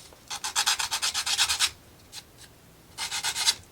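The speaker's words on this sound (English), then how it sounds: "That's a pretty aggressive sandpaper" Rapid back-and-forth strokes of coarse sandpaper rubbing a small craft house model, one long rhythmic burst, a short pause with a couple of light strokes, then another burst, close up.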